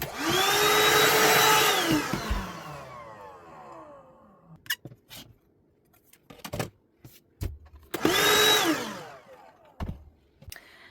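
A vacuum cleaner sucks up fabric scraps in two short loud bursts, each whining up and dying away, with clatter and handling noises between them.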